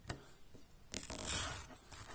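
A knife slicing deep into a twin-seeded mango, giving short scraping, tearing cuts with a brief rasp early on and a longer, louder slicing stretch near the middle, close and fairly quiet with no talk.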